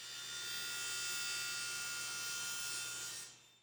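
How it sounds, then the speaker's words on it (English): A table saw spins with a steady high whine and hum at close range, then spins down at the end. It runs alone, with no voices. "and that means table saw"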